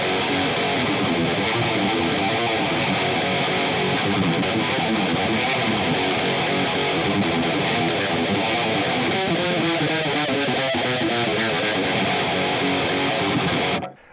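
Distorted electric guitar played through a Victory VX Kraken MkII amp with compression off, a raw, loud chugging riff with rapid picked notes continuing alone for about fourteen seconds.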